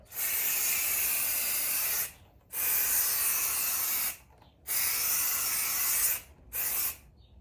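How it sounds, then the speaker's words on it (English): An aerosol can, held upside down, sprays in three long hissing bursts and one short one, steady and close, with brief silent gaps between them. "Then we're spraying this upside down."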